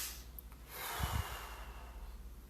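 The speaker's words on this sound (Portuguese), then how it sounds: "E na terceira respiração, soltou o ar." A long exhalation releasing the air on the third breath of a guided hypnosis relaxation exercise, a soft close breathy whoosh with a brief nasal puff in the middle, then quiet, no talking.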